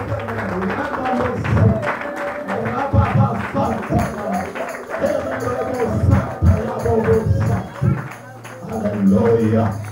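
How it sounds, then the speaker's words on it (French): A church congregation applauds during a French-language worship service, a dense stretch of clapping mixed with voices and singing, loud and steady throughout. "Applaudissez l'Éternel."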